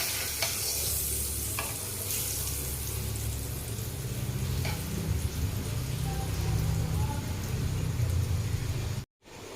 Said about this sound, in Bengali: এবার আমরা আরেকটা পরোটা ভেজে নেব